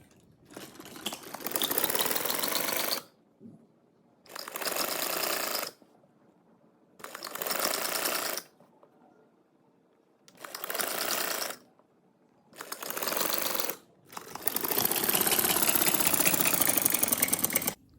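Sewing machine stitching a frock neckline runs in bursts of rapid mechanical whirring and clatter, five or six runs separated by short pauses, the last run longest, close and alone.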